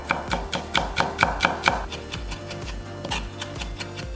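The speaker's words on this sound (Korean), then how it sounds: "통마늘 2개 다져서" Knife mincing two whole garlic cloves for a cherry tomato dish, a quick run of crisp, evenly spaced chops close up on a board, then softer, duller taps continuing at a steady rhythm.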